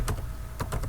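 Someone types dcpromo on a computer keyboard while setting up Active Directory, a few quick close key clicks: one tap near the start, then a short cluster of keystrokes toward the end, with no talk over it.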